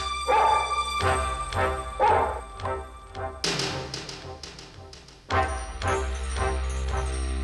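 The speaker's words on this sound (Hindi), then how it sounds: "ये जो कुत्ता है ना, यश चंद्र ठकराल की आवाज को पहचानता ही" A dog barks several times in short bursts, fairly close, with brief gaps between the yaps and some background music-like tones.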